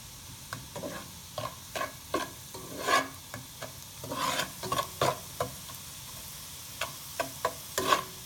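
Ingredients for a seafood étouffée browning in a pan, with a steady low sizzle and repeated scraping stir strokes every half second or so, close and fairly quiet with no talking.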